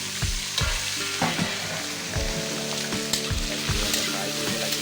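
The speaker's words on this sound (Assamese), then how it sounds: "তাৰপিছত মই এতিয়া আলুখিনি মই ইয়াত এড কৰিম" Potatoes fry in a pan with a steady close sizzle, broken by several low thumping stirs and scrapes of a utensil at a regular pace.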